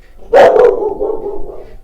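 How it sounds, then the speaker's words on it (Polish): A small dog lets out one loud, sharp bark followed by a drawn-out whining yelp that fades, heard close and alone beside solar water-heating collectors in summer. "Piesek, piesek kogoś usłyszał."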